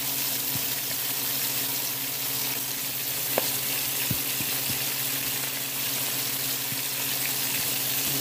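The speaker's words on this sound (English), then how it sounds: "Let them get it good and seared. Let that skin crisp up real quick." Skin-on chicken searing in a hot pan, a loud, steady, unbroken crackling sizzle held close throughout, with a few faint knocks and no speech.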